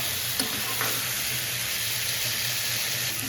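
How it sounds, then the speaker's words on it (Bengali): Elephant foot yam being sautéed with turmeric, spices and salt in a pan, giving a steady, even sizzle with soft stirring scrapes throughout, close and continuous with no talking. "স্বাদ মতন নুন দিয়ে এবার কষে নিতে হবে একটু সময় নিয়ে"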